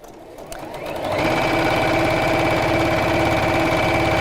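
A sewing machine stitches a festive zipped pouch, starting with a few slow needle strokes and then running at a steady, loud, fast hum and rattle close by, with no talking.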